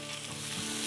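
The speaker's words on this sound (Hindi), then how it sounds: "और अब हम इसमें बेल पेपर डाल देते हैं, रेड वाली कटी हुई।" Chopped red bell pepper sizzles briefly in a pan of spiced potato bhujia, a loud, close, continuous hiss lasting under a second.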